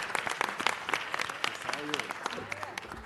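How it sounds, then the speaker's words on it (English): Round of applause from a seated audience in a city council chamber, dense steady clapping at moderate distance with a few voices talking over it. "Let's give him one heck of a round of applause."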